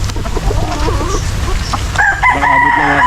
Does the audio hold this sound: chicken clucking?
yes